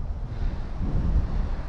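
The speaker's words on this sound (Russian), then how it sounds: "Подул ветер, и можно вздохнуть полной грудью" Wind gusting over the Pechora river in late September, a steady low rumbling roar swelling slightly in the middle, alone with no voices.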